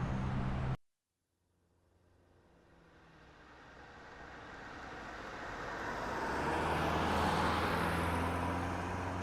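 A cartoon car sets off on a long drive toward a village near Jaipur. After an abrupt cut to silence, the engine rumble swells steadily from faint to a loud whooshing roar, with no voices.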